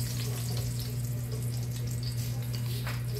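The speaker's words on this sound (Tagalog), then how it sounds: "And then we're gonna fry the anchovies or the dilis." Small anchovies (dilis) frying in a pan, giving a steady, dense sizzle and crackle that stays loud and continuous throughout, with a low constant hum beneath.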